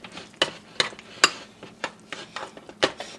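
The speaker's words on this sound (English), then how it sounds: "Just mix it all together." Spoon clinks and scrapes against a bowl while mayo and sour cream dip with chives is stirred by hand, a series of sharp close taps in uneven rhythm, no talking.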